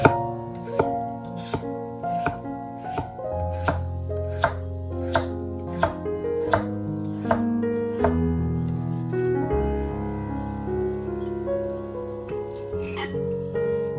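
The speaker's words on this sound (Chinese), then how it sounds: "首先准备一个土豆，挖去外皮， 再切成薄片。" A knife chops through a peeled potato on a board in a steady run of about a dozen sharp, evenly spaced cuts, close and clear, then slows to a few scattered knocks and a clink.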